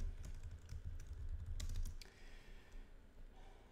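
Code being typed on a computer keyboard: a quick, steady run of soft key clicks, close by and fairly quiet, with no voices.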